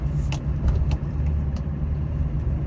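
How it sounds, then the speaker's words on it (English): A 2005 GMC 3500 4x4 pickup truck on the road, heard from inside as a steady, loud low engine and road rumble with faint rattles, no talk. "give you a nice long test drive"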